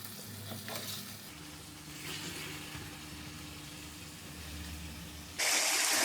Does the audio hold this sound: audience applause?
no